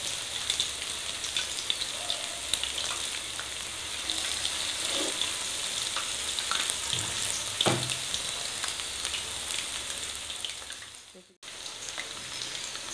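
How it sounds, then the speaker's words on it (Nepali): Chicken wings fry in hot oil, a dense, continuous sizzle with faint crackles and occasional stirring clinks, steady and close, dropping out briefly near the end. "मैले चाहिँ यो फर्स्ट लोडमा चाहिँ चारवटा विङ्स राखेको छु र अब यसलाई चाहिँ हल्का रातो हुने गरेर फ्राई गर्नेछु"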